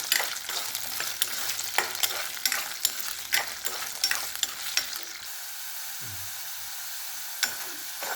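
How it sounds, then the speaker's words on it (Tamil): Potatoes sautéing in oil in a pan for aloo matar sabji, with a bright sizzle broken by regular scraping and clinking stirs for about five seconds, then a quieter steady frying hiss with a last stir. "எண்ணெயிலே நல்லா முக்கால் பாகம் நல்லா இதில் வதக்கிடணும்"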